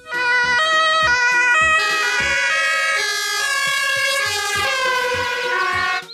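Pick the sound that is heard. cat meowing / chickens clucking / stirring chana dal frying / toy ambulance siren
toy ambulance siren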